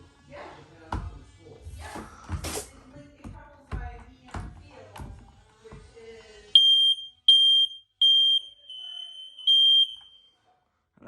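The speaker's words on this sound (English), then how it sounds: "And that's our last smoke alarm." A hardwired household smoke alarm sounds during a test, giving four or five loud shrill electronic beeps in a steady pulsing pattern right after a person talks, then silence.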